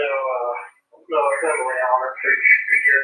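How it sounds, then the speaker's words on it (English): Crackly, band-limited police scanner radio voices trade short transmissions, with a brief gap of silence between bursts, sounding like scanner chatter close by. "Again, what you're hearing is the scanner."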